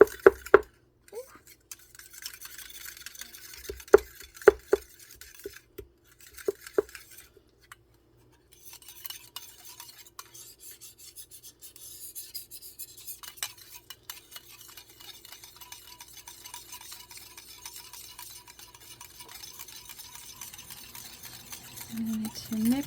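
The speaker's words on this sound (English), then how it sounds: "We're going to mix it until it's nice and glossy, and evaluate it the next day." Homemade night cream whisked in a bowl until glossy: a few sharp clinks and taps at the start, then a long stretch of soft, continuous stirring and scraping close by.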